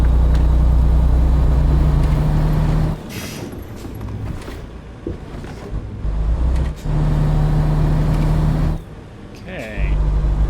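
Truck engine droning steadily at night in American Truck Simulator, a low continuous rumble with brief dips and a short hiss near the end, with speech over it.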